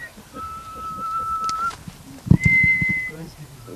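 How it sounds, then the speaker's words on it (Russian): A person whistles long, soft, sustained notes like a lullaby to calm an English Thoroughbred stallion, with a brief thump and low rustling or voices in between, close by. "Насвистывая почти как колыбельную"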